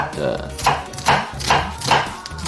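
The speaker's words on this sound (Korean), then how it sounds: "양파 반 개를 어떻게 할 거냐면 썰어 주는 게 아니고 찹을 해줄 거예요." Half an onion is finely chopped with a knife on a cutting board, giving four or five evenly spaced, dull taps of the blade.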